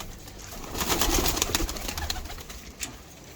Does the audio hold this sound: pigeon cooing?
yes